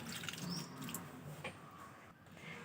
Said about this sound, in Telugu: కట్ చేసాం కదా, ఇవి కొంచెం నీళ్ళు పోసి కడిగేద్దాం.